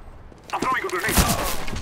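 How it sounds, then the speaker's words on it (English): A grenade thrown in the game CS:GO gives a sudden loud burst with crackling, shattering noise that fills the short moment after a quiet start, sounding close and sharp. "I'm throwing a grenade."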